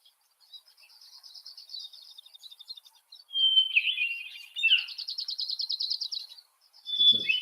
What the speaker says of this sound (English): you can hear not only those single note clear calls, the contact calls, but also the wicka,